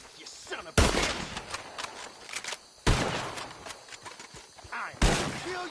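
Gunfire in Red Dead Redemption 2: three loud, sharp bursts of shots at roughly two-second intervals, each with a ringing tail, over a continuous noisy game soundscape.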